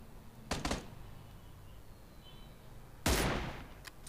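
Two separate bursts of gunfire from the mobile shooter game New State crack out a few seconds apart, short and sharp against a quiet background.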